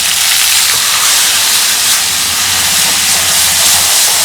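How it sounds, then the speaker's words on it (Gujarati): Sev-tomato curry with onion and country tomatoes being tempered in hot oil on a village farm, a loud, dense, continuous hiss of steam and sizzling that holds steady throughout. "તો હવે શાક વઘારાય છે."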